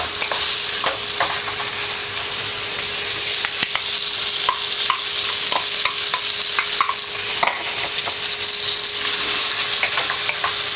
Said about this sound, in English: once your garlic and onion is fragrant, and it is, you can see it is slightly transparent, you can then put in your pork